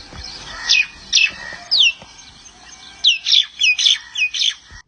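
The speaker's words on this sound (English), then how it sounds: "The common myna bird is extremely vocal with loud screeching, often seen in boisterous groups and native to South Asia." Common myna bird giving loud, harsh screeching and chattering calls in a garden, a series of sharp bursts, some paired, close and clear with no talk.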